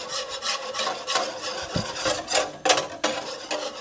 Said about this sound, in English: I'm going to use a whisk to get rid of all the lumps